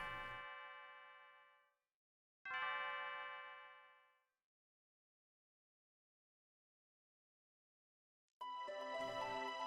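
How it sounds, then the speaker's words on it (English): Leene's bell from the video game Chrono Trigger rings out in clear, sustained chimes. Two strikes decay slowly with a pause between them, and a third bright peal starts near the end. The bell sounds alone. "I'd forgotten how beautiful Linnea's bell could sound."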